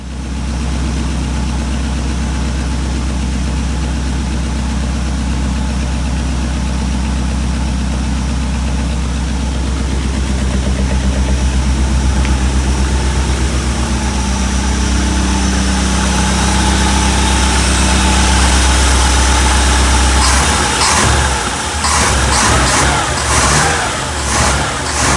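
1957 Chevrolet engine idling in a garage, a loud steady close rumble running continuously, shifting slightly in pitch before it cuts to rougher uneven pulses near the end.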